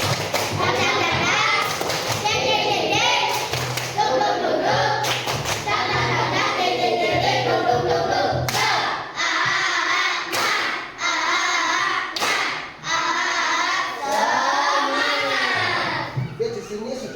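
A classroom group does a rhythmic spirit clap in quick bursts during a lesson, with children's voices mixed in and occasional thumps.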